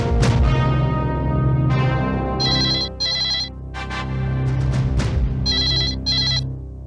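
A telephone rings in repeated bursts of bright trilling tones, with a musical background playing underneath.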